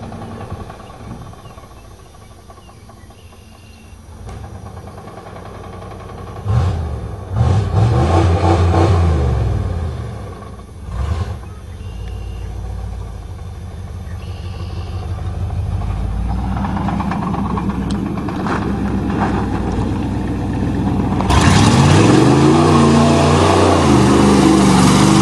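A 1988 Chevy truck with a 305 engine revs hard while mudding, the engine surging and dropping in long pulls, with louder bursts of throttle near the mic toward the end.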